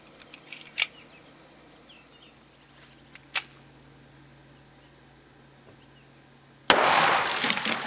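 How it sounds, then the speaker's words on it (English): A Ruger SR1911 pistol with a 5-inch barrel is fired into a water bucket, giving one sudden loud blast followed by a dense splashing rush. Two small sharp clicks come earlier over faint background. "Right now I'm going to shoot the Ruger SR1911 in the 5-inch barrel."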